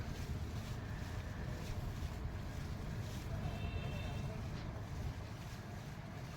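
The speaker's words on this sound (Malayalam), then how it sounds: "ബോട്ട് നല്ല സ്പീഡിൽ പൊയ്ക്കൊണ്ടിരിക്കുകയാണ്" A boat speeds along the water, its engine drone and rushing water mixed with gusting wind buffeting the microphone, steady and fairly faint throughout, with no clear voices.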